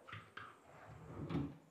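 A cabinet drawer slides open in a house, a couple of quiet wooden knocks followed by a soft rolling scrape, close and faint in a quiet room.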